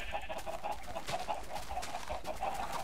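Chickens clucking in the game Minecraft, a steady busy flock of overlapping clucks and squawks filling the whole stretch at moderate volume.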